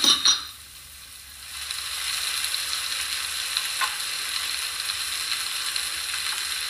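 Carrot, beans and green chillies sautéing in a hot pan with lemon juice, a steady loud sizzle building after a brief clatter at the start and holding evenly close up, with no voices.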